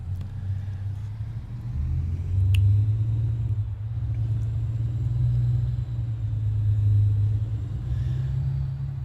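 A truck engine in American Truck Simulator rumbles steadily at idle, then pulls away with a low, even drone that swells slightly, heard alone without talk.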